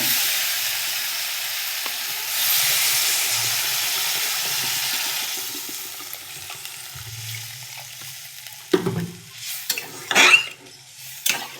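A hot pan of sautéed vegetables sizzles steadily, then the sound dies down before a burst of loud hissing, bubbling and clattering as water hits the pan near the end.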